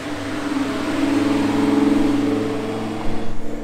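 A white Ferrari FF passes on a Monaco street at dusk, its engine a steady mid-pitched hum that swells and fades over a few seconds, close and fairly loud, with no talking.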